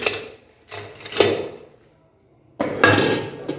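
Metal utensils and pans clatter and scrape as they are set out for washing at a kitchen sink, in three loud, close bursts separated by a quiet gap, with no voices.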